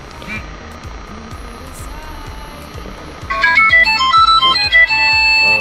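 A replica Vertu Signature S phone switching on: its startup tune breaks in as a loud bright melodic jingle of rising tones over a faint rhythmic background, close and clear.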